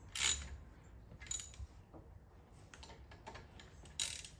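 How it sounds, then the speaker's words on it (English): A socket wrench ratchet tightening brake caliper bolts on a 2016 Chevy Traverse, heard as three short, close bursts of quick metallic clicking separated by quiet pauses. "Take our socket wrench and go ahead and tighten these back up."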